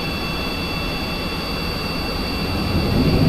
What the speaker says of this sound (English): Afterburners should kick in any second.